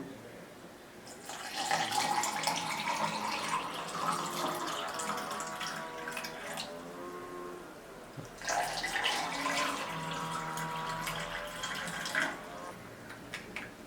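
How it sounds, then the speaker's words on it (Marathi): Cold water is poured into a glass holding a spoonful of Rasna drink powder, heard as two close splashing bursts of running water, the first lasting about five seconds and the second about four, with no talk. "वरून आहे ना थंड पाणी घालू"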